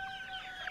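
A flock of about 80 chickens clucking near a hoop house at dusk, a soft continuous chorus of overlapping clucks.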